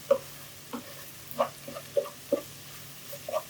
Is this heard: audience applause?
no